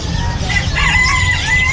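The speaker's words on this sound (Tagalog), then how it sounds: "Boss Marvin anong manok to?" A rooster crows loudly and close, one drawn-out call with clucking and low background noise, at a pet market in Malabon.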